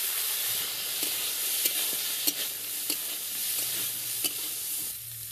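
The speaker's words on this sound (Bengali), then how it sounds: "বিন আর গাজর একটু ভাজা হয়ে গেছে, এবার আমি মটরগুলো দিয়ে দিচ্ছি।" Green beans, carrots and peas frying in a pan, a continuous close sizzle broken by regular sharp scrapes of a spatula stirring the vegetables every second or so.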